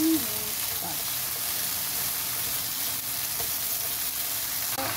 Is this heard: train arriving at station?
no